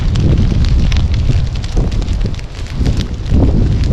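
Brush pile crackling and roaring steadily during a prescribed burn in privet-choked woods, a dense, loud, continuous rumble with scattered pops close by and no talking.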